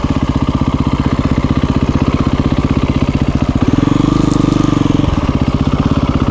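A KTM 350 EXC-F dirt bike engine runs steadily close by with a rapid, even thump, then swells louder for about a second and a half before settling back to its loping idle-like beat.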